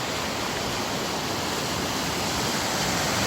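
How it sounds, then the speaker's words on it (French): A main mountain river in the Gran Paradiso massif rushes unseen nearby, a dense, continuous broadband roar of flowing water, steady and fairly loud with no other sounds. "La rivière principale, on l'entend sans la voir."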